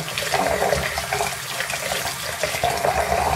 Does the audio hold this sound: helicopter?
no